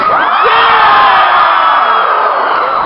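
A convention panel audience screams and cheers loudly, a dense wall of high whoops and yells from the crowd that holds at full volume for about three seconds with no speech.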